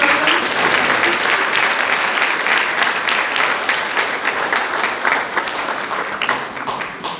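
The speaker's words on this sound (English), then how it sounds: "Little clap, a round of applause for them." Steady, enthusiastic applause from a sizable crowd at an awards night ceremony, sustained for several seconds and fading slightly toward the end.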